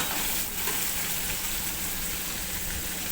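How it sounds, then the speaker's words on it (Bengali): Vegetables with tomato sizzle steadily in a hot pan, a dense, even frying hiss that holds close and constant for the whole stretch with no voices. "সবজিটা ঢালা হয়ে গেছে, একটু ভাজা করবো, 2-3 মিনিট একটু ভাজা করবো।"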